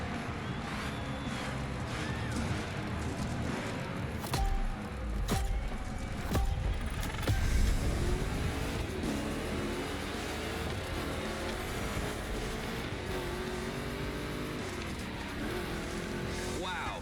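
Two Chevy big-block cars race in The Crew Motorfest, engines revving and droning with rising and falling pitch, bursts of tire noise and impacts early on, a voice talking over the game sounds.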